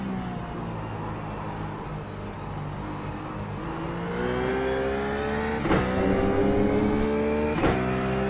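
RUF race car in iRacing at Mid-Ohio, engine held at full throttle, a steady loud drone with its pitch climbing gradually and two sharp shift-like breaks near the end, no talking.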